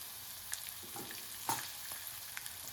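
Garlic frying in tempering oil for churumuri produces a faint, soft sizzle, broken by a few sharp pops and crackles.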